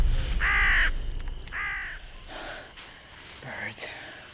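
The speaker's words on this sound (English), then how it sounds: "Bird." A bird in a swamp gives a few harsh caws, two loud ones then fainter calls with soft rustles between, heard alone at moderate distance.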